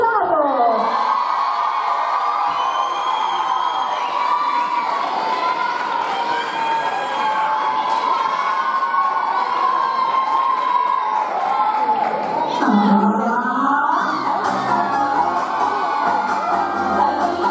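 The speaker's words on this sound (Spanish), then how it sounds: "Recibimos con un fuerte aplauso a Milenka Pizarro" A crowd cheers and whoops for a competitor in the women's elite category at the 2018 Chile Pole Championship. Loud, continuous shouting and applause run throughout, mixed with music.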